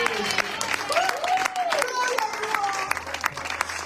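A church congregation applauds God during a sermon, scattered claps and murmurs while a voice sings or calls out over them.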